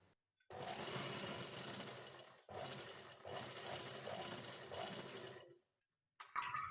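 An electric sewing machine runs in three long bursts with short pauses between them, stitching a curved seam on cigar pants. The motor whirs and rattles loudly up close, followed by a brief quiet gap and a final clack.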